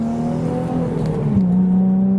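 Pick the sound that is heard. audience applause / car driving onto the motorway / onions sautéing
car driving onto the motorway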